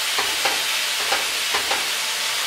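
Chicken pieces for Guatemalan pollo guisado sizzle loudly in a pan, browned on one side and flipped one by one, the steady frying hiss broken by several scraping turns and clinks of a utensil.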